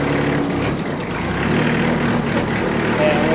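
A 2013 Kubota L3800 38 HP diesel compact tractor loader backhoe runs with a steady, loud low rumble and chugging idle close by, the engine note holding constant throughout.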